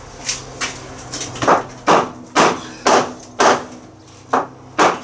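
Repeated hammer blows on metal brackets of a 1972 Triumph Spitfire land at a steady pace, around ten sharp knocks with brief ringing tails and a low hum underneath.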